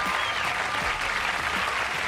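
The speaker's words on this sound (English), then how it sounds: "That's way too much applause, really." A comedy club audience claps hard and steadily after a stand-up set, a thick unbroken burst of applause at full volume throughout.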